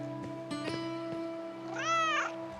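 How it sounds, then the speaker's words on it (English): A cat meowing in the game Broken Roads: a few short chirpy mews early on, then one longer, rising-and-falling meow near the end, heard over a steady tonal background hum with no talking. "Oh, there's a cat."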